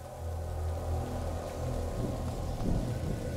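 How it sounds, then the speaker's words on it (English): Steady rain with low rumbling thunder in the video game A Plague Tale: Innocence, a dense continuous wash of downpour and distant storm rumble with no voices. "Lucas, Hugo, stay out of the rain"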